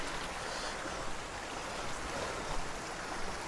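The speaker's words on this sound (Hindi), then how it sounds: "पानी की जो धारा है" Stream of water running along a forest trail on the trek to Rudradhari waterfall near Kausani, a steady soft rushing wash that stays even and fairly faint throughout, with no voices.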